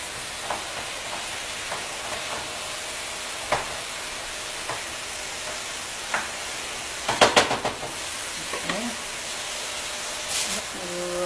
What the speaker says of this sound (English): One pound of ground sirloin. And break the beef.